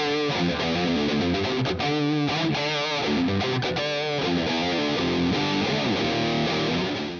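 Distorted electric guitar played through a Mesa Mark V amp and Torpedo Captor X load box, a dense, loud, continuous high-gain riff with chugging palm-muted rhythm and chord stabs throughout, no voices.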